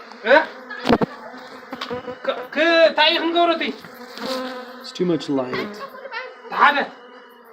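Bees swarm around beekeepers at night in Ethiopia, a buzzing drone heard among voices talking and laughing nearby.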